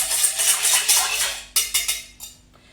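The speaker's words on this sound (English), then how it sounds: "So now we're just going to mix the egg and the milk properly. So just give it a quick whisk again." Egg and milk whisked in a bowl, a run of quick, bright metallic taps and scrapes that briefly pause and resume in a few short bursts, close and clear with no talk.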